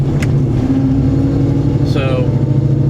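A Coyote V8-swapped car engine idles with a steady low rumble, its pitch rising briefly in a short rev, under a voice speaking close by.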